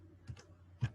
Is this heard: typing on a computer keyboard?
yes